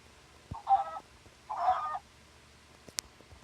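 Two short clucking calls from a Minecraft chicken, a brief pause between them, followed by a faint click, in an otherwise quiet setting.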